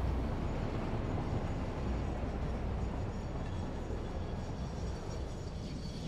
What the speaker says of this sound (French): ça en met du temps à freiner à cette vitesse